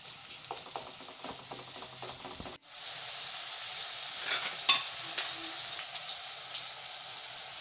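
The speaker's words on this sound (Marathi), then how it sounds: "आता मी थोडे तेल गरम करून घेतले आहे। त्यात सर्वात आधी घातला आहे कढीपत्ता, बारीक चिरलेला कांदा" Curry leaves and finely chopped onion hit hot oil for a potato bhaji, starting with faint stirring and then a sudden loud hissing sizzle that continues steadily up close.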